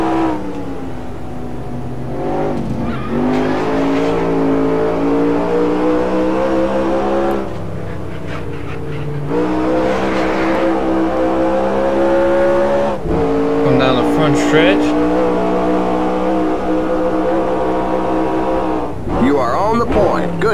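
Stock car engines roar continuously in NASCAR Racing 2003 set in a 1969 USAC season race, with loud droning, pitch-shifting revs as cars run the straightaway into turn 4, and a brief drop near the end.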